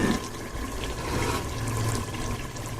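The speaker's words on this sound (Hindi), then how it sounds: "ये जग भर के मैं इसमें पानी डाल रही हूँ।" Water pours from a jug into a pot of rice, a continuous splashing and gurgling stream at close range lasting a few seconds.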